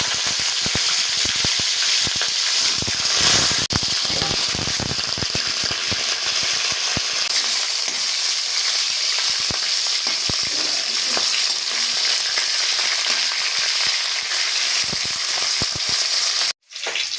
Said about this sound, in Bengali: এবার মাছের মাথাটা আমি দিয়ে ভালো করে ভেজে নিচ্ছি।